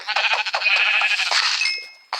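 Minecraft sheep bleat loudly and close, several overlapping cries running together for about two seconds, followed by a short click.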